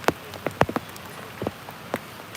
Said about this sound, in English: Comes a big rain event.